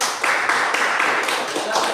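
A classroom audience of students clapping after a group presentation, a loud ragged burst of many hands that pulses unevenly throughout, nearby and dense.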